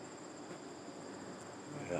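Bees buzz outdoors with a faint, steady insect drone that holds evenly throughout and rises slightly at the end.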